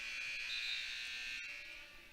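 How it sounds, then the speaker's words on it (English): A buzzer sounds at a women's pro basketball game in a fieldhouse, a steady faint electronic buzz held for about two seconds over quiet arena ambience. "I heard that buzzer"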